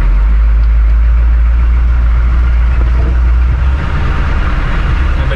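A 1974 Ford F-150 pickup engine runs with a steady, deep, loud rumble that holds constant throughout, close by, with no talking.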